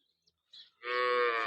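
A cow from a small dairy herd lets out a single loud, close moo that swells up after a couple of faint brief noises and holds steadily to the end, with no talking.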